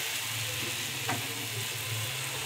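Fried cabbage sizzling steadily in a hot pan as water goes in, a constant frying hiss with a brief splash-like burst midway, close and moderately loud.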